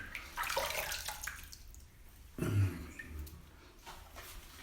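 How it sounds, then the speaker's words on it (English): Water is thrown onto a fist at a bearded man's grooming lounge, giving a brief splash and slosh at close range amid faint background noise and running water. "Now that's me throwing water on my fist."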